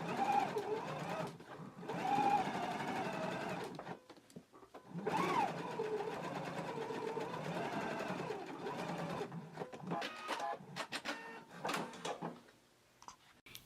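Sewing machine basting a shirt collar together, running in several bursts with short pauses between them, steady mechanical whir close by with no talking over it.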